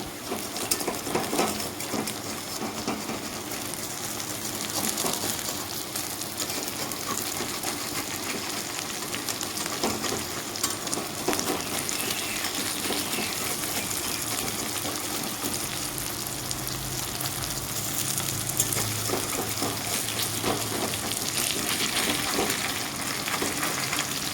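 Bitter gourd sizzles and crackles steadily in a hot pan, a dense continuous frying hiss with occasional stirring, no talking.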